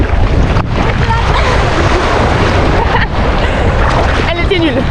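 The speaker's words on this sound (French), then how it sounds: "Et là la vague arrive." Ocean swell arriving at a Brittany beach with kitesurfers offshore, a loud continuous roar of surf mixed with heavy wind buffeting the microphone, and voices speaking briefly near the end.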